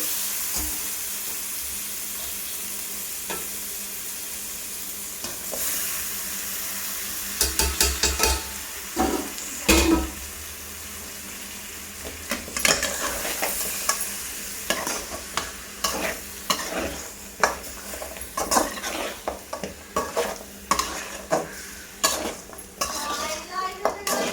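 Mutton pieces frying in a pan and being stirred, a constant sizzle that picks up partway through under busy clanks and scrapes of a metal spoon against the pan, close and loud, with no voices.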